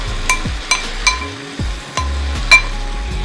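Sausage and bacon fry with cabbage in a pan, a steady close sizzle broken by repeated metallic scrapes and knocks of a utensil stirring against the pan.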